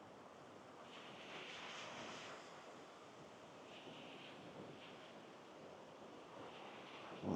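Ocean surf rolls onto the beach at Suluban, Uluwatu in Bali, a steady broad wash of breaking waves mixed with wind buffeting, fairly distant and with no voices.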